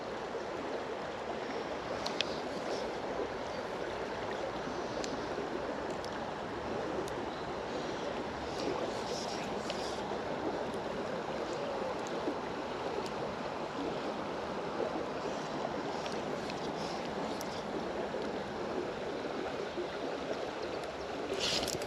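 Fast water of the River Doon in Ayrshire, Scotland, rushes in a steady, dense broadband wash, close and continuous for the whole stretch with no voices over it.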